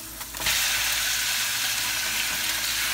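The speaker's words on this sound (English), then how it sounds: "Now I'm going to add the beef" Beef dropped into a hot pan with green bananas and carrots, bursting into a loud, steady, close sizzle that continues without pause and with no talking.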